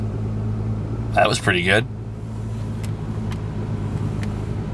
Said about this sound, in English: Alright, so here I go, hitting the start button now.